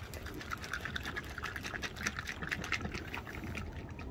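Raptor liner hardener sloshes and splashes steadily inside a bottle as it is shaken, close and continuous for a few seconds.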